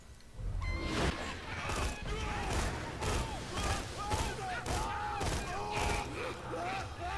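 Bursts of gunfire from the Seraphim gun in Borderlands 2 crack out at a steady rhythm, roughly one every half second, with whooshing impacts mixed in and a voice talking underneath.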